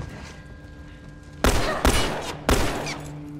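Three sharp, loud gunshots in The Last of Us Remastered, fired in quick succession over a low ambient game background.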